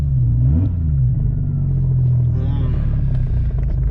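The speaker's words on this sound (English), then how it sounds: "hear that? That's that transmission for you. That's a CD09 for you." An E85-fuelled 2JZ car with a CD009 transmission drives along, its drivetrain droning and whining continuously under the engine rumble, heard from inside the cabin with some talk.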